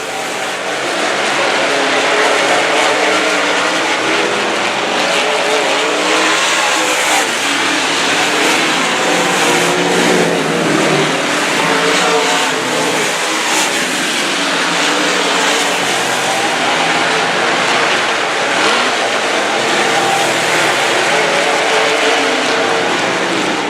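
Race cars roar around the oval at Heartland Park Topeka, a dense, continuous wall of engine noise with revving and passing cars, loud and sustained throughout with no break.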